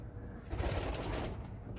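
Breeding pigeons coo softly in a short, low, murmuring call, fairly close and alone without talk, under a faint outdoor hiss on a misty, overcast day.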